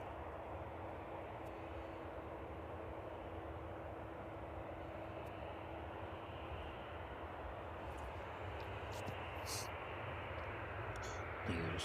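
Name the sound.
aircraft at East Midlands Airport, likely a Ryanair 737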